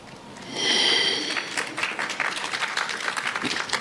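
Audience applause at a channeling talk session, a dense crowd clapping that swells early and then continues steadily, fairly close and moderately loud.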